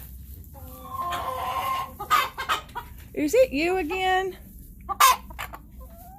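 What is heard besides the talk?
hens clucking in a coop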